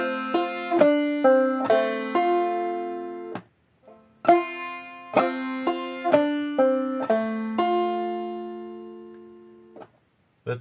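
A clawhammer banjo plays a measure of the old-time tune Cleveland Marching to the White House, with bright plucked notes in a bouncy, steady rhythm, a brief pause midway, then the phrase repeats and rings out alone.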